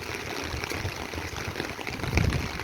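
Steady rain and flowing floodwater near a rising river in Pansol during continuous rainfall, heard as a constant broadband wash of water with a slightly louder surge near the end, no voices.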